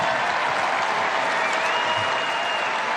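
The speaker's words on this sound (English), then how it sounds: "lots of applause for prayer" Crowd at a political rally breaking into steady, dense applause that holds at an even level for about three seconds.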